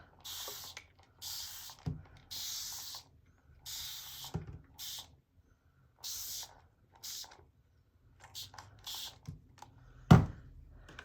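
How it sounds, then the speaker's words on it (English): A Fine Mist spray bottle sprays water onto paper in a series of short, hissing bursts that come in an uneven rhythm, with a single louder thump near the end. "I may spray it again, but I don't think I have enough water on there. All right, let's spray some."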